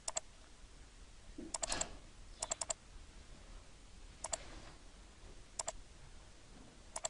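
A computer mouse clicks faintly in a quiet room, in short bursts of two or three quick clicks separated by pauses.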